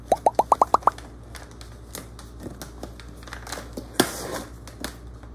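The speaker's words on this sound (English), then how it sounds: "There's a bubble wrap." Bubble wrap packaging around a tequila bottle is handled, starting with a quick run of six sharp pops in a row, then softer crinkling and scattered pops, close up.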